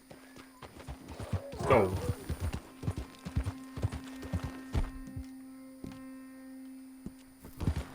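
A horse in Red Dead Redemption 2 clip-clops along at a steady rhythm, hooves loud and close, with a brief spoken word early on and a low steady hum underneath.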